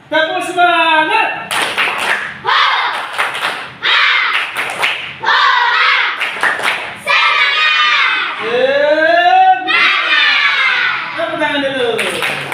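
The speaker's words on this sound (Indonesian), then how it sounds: "Tepuk semangat." Young schoolchildren in a classroom shout a chant while clapping in rhythmic bursts of claps and thumps, their voices loud and close throughout.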